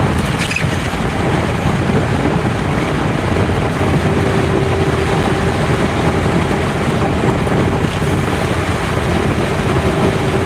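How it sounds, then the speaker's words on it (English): Steady, loud wind buffets a car on an early morning drive through Kentland, Indiana. Constant broadband rushing continues without pause the whole time. "Y'all can hear that wind sound."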